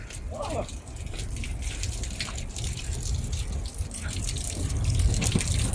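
Rushing water along the wet, rocky Mist Trail in Yosemite near Vernal and Nevada Falls, a steady broadband wash that swells slightly toward the end, with faint voices under it.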